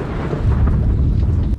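Deep rumbling roll of thunder from a storm, loud and sustained with low booming energy, heard alone without voices.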